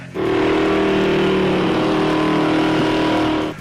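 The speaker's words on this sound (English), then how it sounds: "A 1967 Corvette Stingray L36 427 cubic inch engine with 390 horsepower" A 1967 Corvette Stingray L36 427 cubic inch big block V8 idles and revs in a deep, steady rumble with a rising and falling note, close by, no voices.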